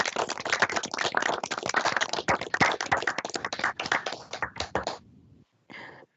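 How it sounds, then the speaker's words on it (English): Participants in an online committee meeting clap through unmuted microphones, a dense, uneven patter of many hands that cuts off abruptly near the end, followed by a brief short burst of clapping. "I'd like to invite everybody to unmute your microphones and have a round of applause for Dr. Fossil."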